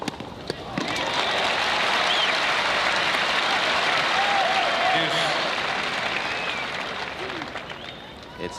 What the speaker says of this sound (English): that's the reason for the reaction from the crowd